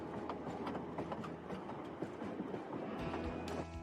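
A train rolls along its rails with a faint, steady rumble and soft rhythmic clatter of the wheels, heard from inside or near the carriage, distant and low in level.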